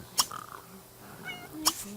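Cat in The Sims 3 video game making short, sharp meows, two brief bursts about a second and a half apart, close and fairly loud over a quiet background.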